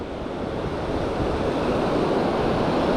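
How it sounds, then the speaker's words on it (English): Strong wind and crashing ocean surf on a beach at Seaside, Oregon, a constant loud roar with gusty buffeting against the microphone and no pauses. "really windy today"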